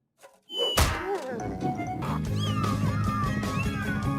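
A cartoon cat meows briefly near the start, followed by a loud thunk and a busy animated soundtrack with further cat-like cries and effects.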